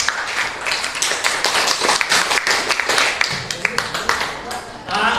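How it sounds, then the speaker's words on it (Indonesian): A classroom of students claps for a classmate, a busy patter of many hands with sharp individual claps, close and lively, with voices mixed in. "Bapak beri tepuk tangan buat Salwa."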